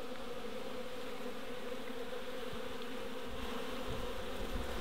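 Honey bees buzz steadily in an opened hive, a dense, continuous hum close by that holds at an even level throughout.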